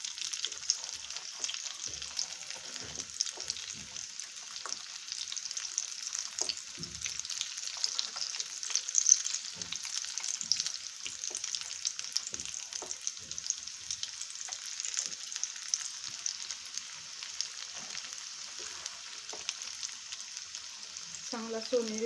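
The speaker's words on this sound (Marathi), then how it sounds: "चांगला सोनेरी रंग येईपर्यंत आपल्याला तळून घ्यायचे हे रोल्स." Veg bread rolls deep frying in oil, a soft steady hiss of bubbling fat with occasional faint pops and clinks, fairly quiet and close, with a brief voice right at the end.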